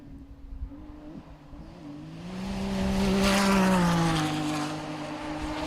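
Enduro race cars on a pine forest stage, one engine revving and shifting, then rising to a loud, drawn-out pass before fading slightly; a single car going by at speed.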